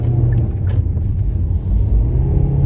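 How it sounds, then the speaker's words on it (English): Steady low road rumble and tire noise fill the cabin of a 2025 Kia Soul as it takes a corner, a constant drone with no talking. "you're gonna get a lot of road noise in here, which I guess is pretty typical"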